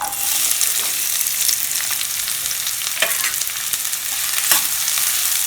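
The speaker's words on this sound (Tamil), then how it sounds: "அதை நல்லா வறுத்துக்கலாம். நல்லா வதக்கிக்கலாம்ப்பா." Small shallots frying in oil in a kadai for a duck fry gravy, a bright, constant sizzle with occasional crackles and stirring scrapes, close and without talk.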